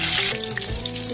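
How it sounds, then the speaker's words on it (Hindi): Chillies hit hot oil in a kadhai, producing a loud, dense sizzle and crackle over about a second. "तो अभी तेल डाल रहे हैं। पहले डालेंगे हम मिर्च,"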